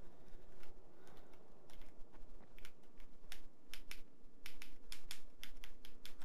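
Computer keyboard keys click and clack in irregular bursts during play of the Dying Light video game, close and crisp over a low game-world hum.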